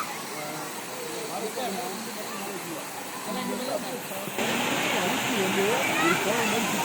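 Bheeman Falls waterfall rushes as a steady hiss with a voice talking over it, and the roar grows louder and fuller partway through.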